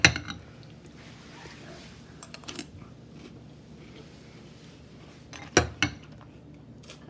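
A spoon scoops cereal and milk from a bowl, giving a clink of metal on the dish at the start and a few more near the end, with soft wet scraping and quiet gaps between.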